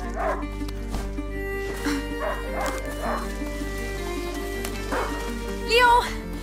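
A hunting dog in the video game A Plague Tale: Innocence gives a series of short barks and yips spread across the scene, mixed with background game music and a voice calling out.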